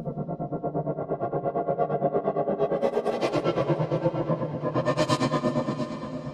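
An Omnisphere synth preset from the Equilibrium 2 library, darkened with the mod wheel: a distorted, pulsing drone with echoey texture that swells brighter twice, playing alone without speech.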